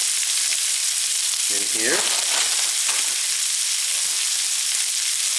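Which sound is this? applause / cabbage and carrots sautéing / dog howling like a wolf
cabbage and carrots sautéing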